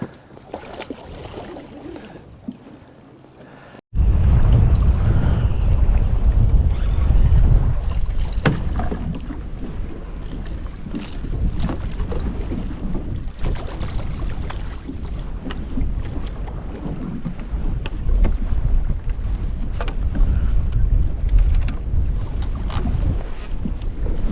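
Wind blowing hard against a microphone on a boat while catfishing, a loud, continuous rumbling buffet that gusts and swells throughout, with no talking.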